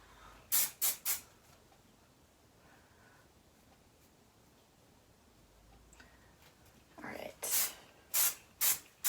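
Hairspray from an aerosol can sprayed onto a short undercut pixie cut: three quick hissing bursts near the start, a quiet gap, then four more close, loud spritzes toward the end.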